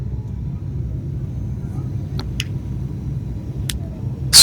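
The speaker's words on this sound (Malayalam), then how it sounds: "ഇതൊരു കുഞ്ഞു ഫ്ലൈറ്റാണ്." A small passenger plane lands at Agatti island in Lakshadweep, heard from the cabin as a steady low engine rumble with a few faint clicks and a brief knock at the end.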